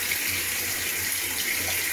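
Electrolux top-load washer (LEC14/LEJ14 family) filling with hot water through its jet inlet: a steady hiss of pouring water over a faint low machine hum, constant and close, with no talk.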